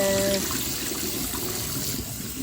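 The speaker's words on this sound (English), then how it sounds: "Rinse, rinse, pour, pour, pour." Water pours and splashes into a sink as basmati rice is rinsed, a steady, fairly faint rushing trickle lasting a couple of seconds after a brief tone at the start.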